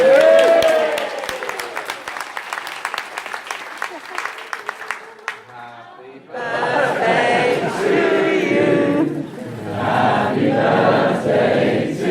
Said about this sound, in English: Come on, big cheer for her.